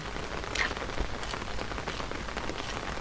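Steady rain patters onto leaves and ground in a durian orchard, a dense even hiss of drops with a few sharper splashes, close by and continuous, with no voices.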